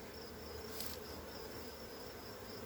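Honey bees on a hive during an inspection a week after splitting, a steady faint buzzing drone with a brief brighter swell near the middle, no voices.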